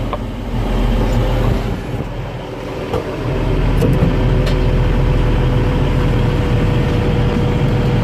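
A piece of farm equipment with its engine starting up and settling into a steady loud idle, a low continuous rumble that rises slightly after a few seconds, with no talking.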